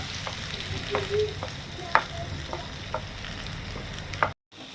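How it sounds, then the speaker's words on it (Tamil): Large cut onion hitting hot oil, a soft steady sizzle with a few scraping stirs, close and fairly quiet, ending in a brief cutoff. "அந்த எண்ணெயில் நம்ம ஒரு பெரிய சைஸ் வெங்காயம் வெட்டி இருந்தோம்ல அதை போட்டுடலாம்"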